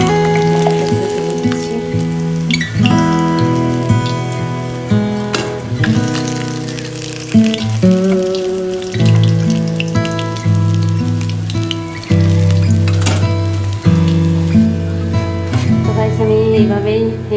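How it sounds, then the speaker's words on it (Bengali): Fish frying in oil for a fish curry, with a loud, dense crackling sizzle that runs continuously over steady tonal kitchen background hum, with no voices. "এইভাবেই এই মাছগুলো ভেজে নেব"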